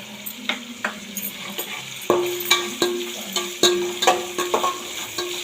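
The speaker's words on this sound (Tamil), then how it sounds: "நாலு பல் பூண்டு போட்டுக்கலாம் போட்டுட்டு வதக்கி விட்டுக்கலாம்" Garlic cloves sautéing in a pan for radish sambar: a steady soft sizzle broken by repeated rhythmic scrapes and taps of a stirring spoon against the pan, close and clear with no talk.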